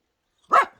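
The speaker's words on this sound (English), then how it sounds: "there's nothing to bark at" A single short, sharp bark from a dog at a cabin under construction, close and loud against otherwise silent surroundings.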